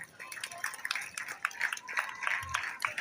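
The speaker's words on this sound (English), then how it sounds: "A big round of applause for them" Applause at a school investiture ceremony, scattered hand claps sounding faint and somewhat distant, with a light murmur of voices underneath.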